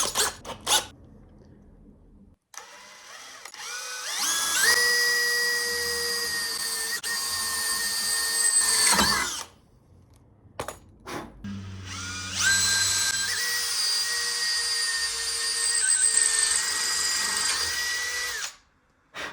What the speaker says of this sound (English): Now we can start the drilling.